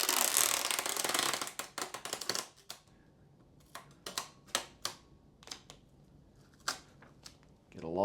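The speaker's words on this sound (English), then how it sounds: "Get a long piece of tape," A long strip of tape pulled off the roll for an arm lock putter: a burst of ripping at first, then a series of sharp ticks and crackles as the tape is handled, close and fairly quiet.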